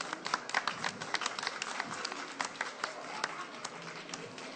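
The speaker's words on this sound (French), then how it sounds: "Bravo, bravo, on peut l'applaudir quand même." A studio audience claps for a contestant at a quiz show, a sustained burst of many hands with sharp individual claps standing out, moderately close and without talk over it.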